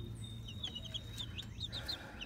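Soft, low clucking from a hen with faint chirps of other birds, quiet and a little distant, no talking.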